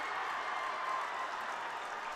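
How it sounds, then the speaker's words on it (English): Basketball crowd and bench cheering after a made three-pointer at a boys' high school section championship game, a steady dense roar of voices and applause sustained throughout. "Josh Bakken, the senior, and the bench, and crowd erupts"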